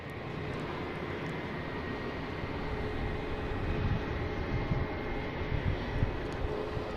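A Delta Airbus A330-900 widebody jet departing Boston Logan, a distant, even engine rumble that swells slightly toward the end, broad and low with no talk over it.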